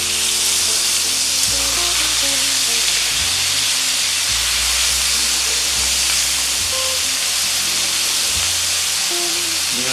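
Meat sizzles steadily in a hot pan while rice dishes are being prepared, a dense, loud, continuous frying hiss lasting throughout with no one talking.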